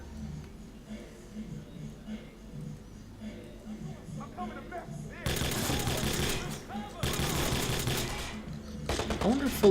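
Fully automatic shotgun fire in Watch_Dogs rattles in two long, loud bursts of rapid blasts, following quieter game ambience and someone talking, with a final shot near the end.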